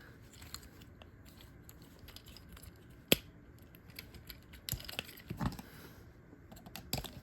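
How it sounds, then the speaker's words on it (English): Scissors cutting and prying at the packaging of a Transformers Studio Series Voyager Class Scrapper toy, a few sharp close snips and plastic clicks scattered over quiet room background, with a louder crunchy cluster near the end. "I gotta use scissors"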